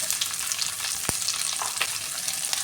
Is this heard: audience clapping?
no